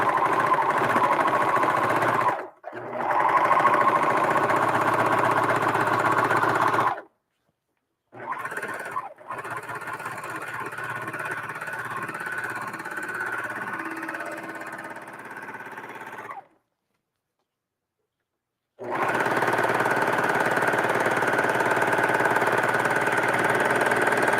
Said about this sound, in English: we are just going to run this through to get a nice finished bottom